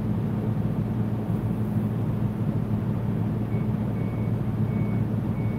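A day-cab truck idles with a constant low engine drone while faint, evenly spaced reversing beeps sound near the end.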